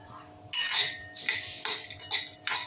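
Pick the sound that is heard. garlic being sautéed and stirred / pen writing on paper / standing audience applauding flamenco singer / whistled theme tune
garlic being sautéed and stirred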